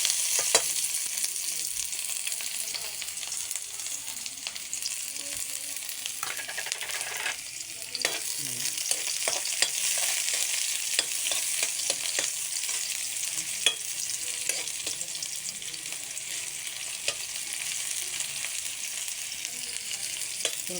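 Garlic, onion and ginger sautéing in a pan, a continuous bright sizzle with scattered light scrapes and ticks of stirring, steady and close.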